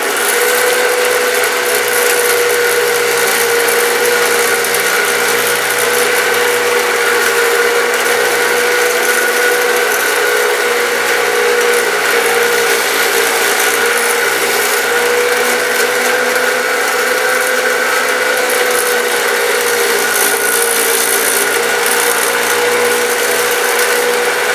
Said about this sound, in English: I'm going to show you how easy it is to cut this on the bandsaw.